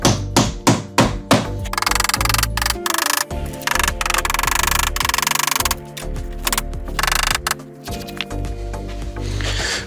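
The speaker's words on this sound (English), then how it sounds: "I'm just going to hammer these old nails in." A quick burst of hammer blows driving old nails into wood opens, followed by dense rattling and tapping knocks at close range, ending with a few more strikes.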